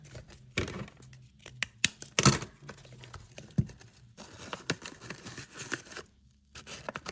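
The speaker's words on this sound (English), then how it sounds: "you're going to want to take your cardboard and cut some pieces" Scissors snipping through cardboard pieces for a homemade Spinosaurus figure, a string of close, sharp cuts and papery tears in an uneven rhythm with brief pauses, no voices.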